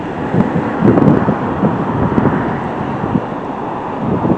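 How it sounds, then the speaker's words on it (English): Wind gusts roaring across the microphone by a wavy shoreline, a steady low rumble that swells and eases with no voices. "It's windy here."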